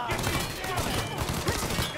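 Gunfire in the Mafia 3 video game, a dense crackling burst of overlapping shots that runs through the whole clip, loud and close, with a player's voice mixed in.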